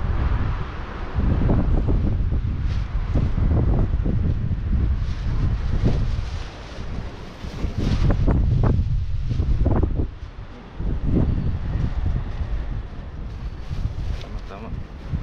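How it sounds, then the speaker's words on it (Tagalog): Strong outdoor wind while fish is laid out to sun-dry, heard as continuous rumbling gusts buffeting the microphone, rising and falling under people talking. "Medyo malakas yung hangin."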